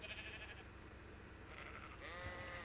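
Sheep bleating in the ARK: Scorched Earth video game, a faint wavering bleat rising near the end over a low, steady game background hum.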